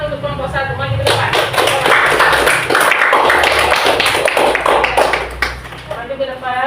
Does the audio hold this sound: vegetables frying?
no